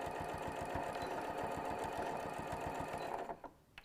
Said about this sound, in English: So we're only sewing over top of the quilted part.